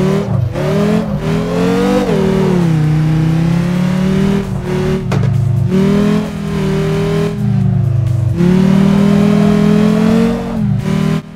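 A car engine in CarX Drift Racing Online, driven normally in time attack mode, revs hard and close, rising and dropping in pitch with repeated gear shifts and brief lifts off the throttle.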